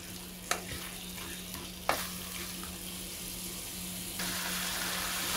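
Potatoes and peas fry in a pan with a steady sizzle, while a spoon scrapes and clacks against the pan a couple of times; no talking.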